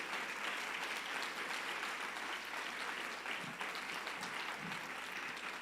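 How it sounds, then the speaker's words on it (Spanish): A church congregation applauds, a continuous, fairly faint wash of many hands clapping in a reverberant hall with no break across the few seconds. "si vas a aplaudir, hazlo bien y hazlo para Él"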